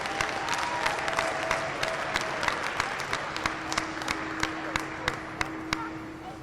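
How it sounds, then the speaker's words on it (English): Scattered applause from onlookers at a county fair goat show, honoring the exhibitors in the ring, with sharp individual claps standing out over a noisy crowd and a steady background hum. "go ahead and give these exhibitors out here a round of applause for their hard work."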